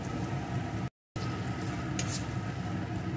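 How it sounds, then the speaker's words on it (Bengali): Chopped tomato sautéing with spices in a pan for a stuffed pointed gourd dorma, giving a steady dense sizzle with a brief gap and a faint light clink or stir noise. "টমেটোটাও মশলার সাথে ভালো করে কষিয়ে নিয়েছি"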